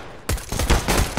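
Gunfire in Counter-Strike: Global Offensive bursts in suddenly, several loud, close shots in quick succession.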